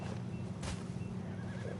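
A horse whinnies in Red Dead Redemption 2, a loud, shaky neigh over steady low rumble and hoof clip-clop, heard up close within the game's outdoor ambience.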